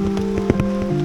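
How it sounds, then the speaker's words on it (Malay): Steady rain falls on an outdoor fishing spot, a dense continuous patter with a few slightly louder drops, alongside a faint steady hum and no voices. "Dah hujan geng."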